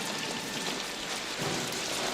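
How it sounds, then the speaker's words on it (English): Heavy rain pours down steadily in a thunderstorm, a dense and constant hiss of drops drumming on surfaces, with no one speaking. "And now with all this rain, we've got lightning."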